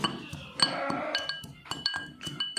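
Pepper and spices crushed by hand in a stone mortar as a home remedy, heard as a close series of sharp clinks and knocks in an irregular rhythm, with no voices.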